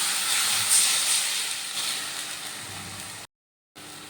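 Water poured into hot frying spice paste for coriander rohu sets off a loud, steady sizzling hiss that slowly eases, with a brief cut to silence near the end.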